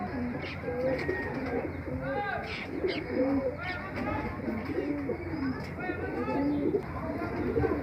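Khatang pigeons coo steadily nearby in soft, repeated rolling calls, with a voice talking over them.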